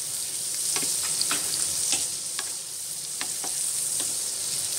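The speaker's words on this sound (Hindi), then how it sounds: "प्याज को मैं हल्का गोल्डन कलर का फ्राई करूँगा" Chopped onion frying in oil for pav bhaji, a steady close sizzle broken by repeated sharp scrapes and clicks of stirring, with no voices.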